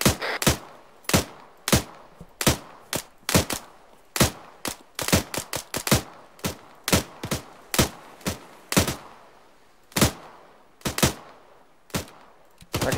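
Rapid bursts of gunfire from the video game Arma 3, sharp loud shots cracking in quick irregular clusters across the whole stretch with short gaps between volleys.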